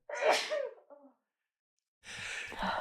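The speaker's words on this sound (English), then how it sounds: "You're going to sneeze." A person sneezing once, a loud close burst with a short trailing breath, followed by silence and then a rustle of movement.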